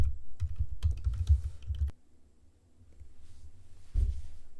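Quick bursts of keystrokes on a computer keyboard as a password is entered in an Ubuntu terminal, close and clear, stopping about halfway, then soft room hiss and one last key tap.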